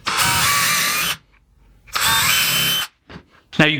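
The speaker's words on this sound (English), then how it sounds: "I'm just going to pre-drill" Power drill pre-drilling holes in wood while building DIY patio chairs, heard as two loud, close whirring runs of about a second each, with brief clicks and handling noise after.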